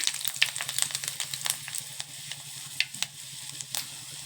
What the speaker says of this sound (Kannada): ಎಣ್ಣೆ ಕಾದೈತಿ ಅದಕ್ಕೆ ಒಂದು ಸ್ವಲ್ಪ ಜೀರಿಗೆ ಹಾಕೊತೀನಿ ಸ್ವಲ್ಪ ಸಾಸಿವೆ ಹಾಕೊಳ್ಳಿ